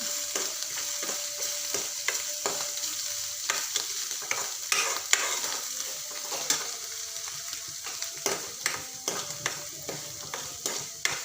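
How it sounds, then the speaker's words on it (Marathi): Spices fry in oil for a brinjal curry, giving a soft continuous sizzle under repeated clinks and scrapes of a spoon stirring the pan, close and fairly quiet with no talk. "आपण सर्व मसाले असे मस्त तेल सुटेपर्यंत परतून घेऊया"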